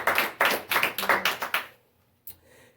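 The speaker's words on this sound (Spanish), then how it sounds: "Denle un aplauso al Señor Jesucristo." A church congregation claps for Jesus Christ in a short burst of close applause lasting under two seconds, then fades to quiet with one stray clap.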